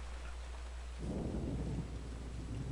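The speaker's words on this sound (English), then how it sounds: "it's thundering, it's lightning, it's raining, it's pouring" Thunder and pouring rain in the video game Eternal Darkness: a steady wash of rain, then a deep rumble of thunder swells in around the midpoint and rolls on to the end, with no talking.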